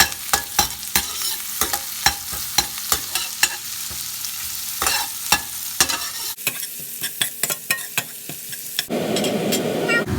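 Ginger garlic paste being sautéed in a pan for a button mushroom coconut cream curry: steady loud sizzling with repeated rhythmic scrapes and taps of a spatula stirring, close up, with no voices.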